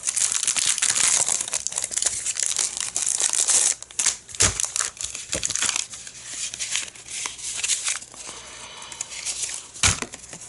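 Paper ephemera being cut for a junk journal tag, giving continuous crisp crinkling and snipping with occasional sharper cuts, close and steady throughout, with no talking.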